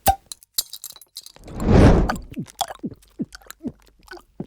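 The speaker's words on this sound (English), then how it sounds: "why you have crushed that glass?" A drinking glass is crushed with a sharp grinding crunch in the middle, surrounded by scattered clinks and tinkling shards before and after, fairly close.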